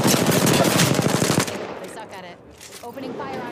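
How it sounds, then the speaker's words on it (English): Rapid automatic gunfire in the video game Apex Legends, a dense burst for over a second, then quieter scattered shots and game sounds underneath with a player's voice present. "Opening fire on our prey."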